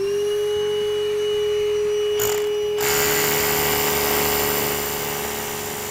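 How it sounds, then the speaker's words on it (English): A drill bores a 3/4-inch hole two inches deep into a concrete floor slab, a steady loud whining drone with a strong tone, briefly changing pitch partway before continuing unbroken. "I'm now going to drill a 3/4-inch diameter to a depth of 2 inches."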